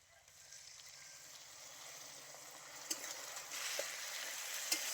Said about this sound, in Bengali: এবারে আমি অল্প জলে ফুটিয়ে নেব।